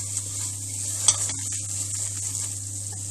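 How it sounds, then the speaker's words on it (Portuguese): Flour frying in butter in a pan while making bacalhau with cream, a steady soft sizzle with light scraping and one sharp clink, over a constant low hum, no talking. "Vou fritar na farinha e coloco o leite."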